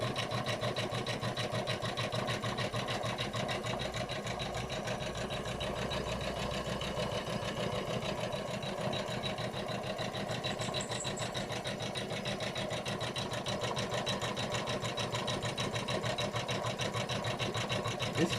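A Husqvarna Designer 2 sewing machine stitches steadily and continuously in a narrow sewing room, with an even mechanical hum and rapid needle rhythm running throughout, close and without talk.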